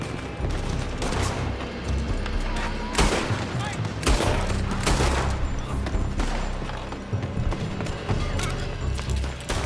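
Rapid gunfire in Red Dead Redemption 2 crackles through a chaotic shootout, with repeated loud sharp shots and bursts from a building, mixed with shouting voices and hoofbeats of horses.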